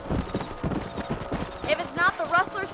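Horse hooves clip-clop at speed in the Red Dead Redemption video game, a quick close rhythm mixed with a neigh and game sounds, while a voice talks over it.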